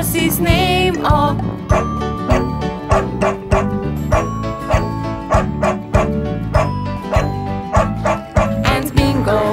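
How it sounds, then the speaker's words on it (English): A dog barks in a Bingo nursery rhyme song: repeated bright yips and bow-wows fall in a regular rhythm over a bouncy musical backing. "there was a farmer had a dog, and Bingo was his name"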